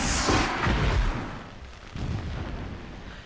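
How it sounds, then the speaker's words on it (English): Distant explosions in Horizon Zero Dawn rumble as two broad, muffled booms about 1.5 seconds apart, each swelling and fading with a deep rolling tail. "Explosions in the distance."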